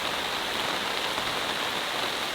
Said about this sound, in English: I mean, it's heavy rain.